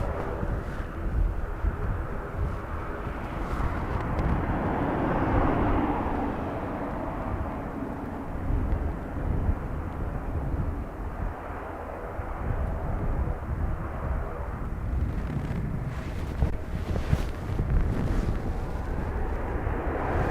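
Aircraft at Dublin Airport in blustery crosswinds: a steady, loud engine roar fills the scene throughout, thickened by gusty wind buffeting the microphone, with no voices.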